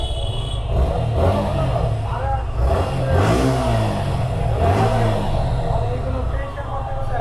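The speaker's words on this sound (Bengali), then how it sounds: "বাইকের যে ইঞ্জিন সাউন্ডটা সেটা আপনারা একটু শোনেন" A Suzuki Gixxer FI ABS motorcycle idles and revs nearby, its steady mid-pitched engine drone rising and falling in a few throttle blips, while a person talks over it.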